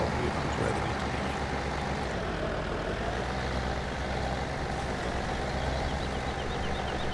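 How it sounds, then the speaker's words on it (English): A tractor engine in the video game Farming Simulator 17 drones steadily and loudly throughout, a continuous low rumbling hum with no break or other sound. "The tractor noise too loud."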